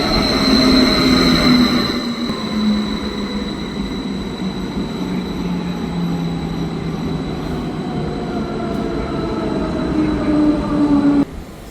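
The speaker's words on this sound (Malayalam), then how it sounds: "നമ്മൾ ട്രെയിനിൻ്റെ അകത്തോട്ട് പോവാണ്. നമുക്ക് മുകൾ നിലയിലേക്ക് തന്നെ പോവാം." Continuous rumble and rattle from inside a moving double-decker train, with rising and falling wheel squeals and tonal whines over a steady loud background and no voices.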